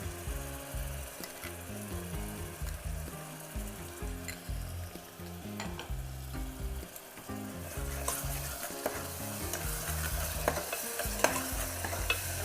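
A spoon scrapes and stirs tomato paste with salt and spices in a cooking pot for rajma, over a soft continuous sizzle, with uneven scraping strokes close by and no talk.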